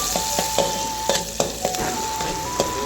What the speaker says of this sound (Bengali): ওই তেলের ভেতর কিছুটা রসুন থেঁটো করে দিয়ে হালকা ভেজে